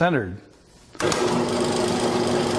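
A Holzmann STM4SB drill press fitted with a mortising auger and chisel starts up after a short spoken phrase, then runs as a steady, close, loud motor hum with a whirring tone.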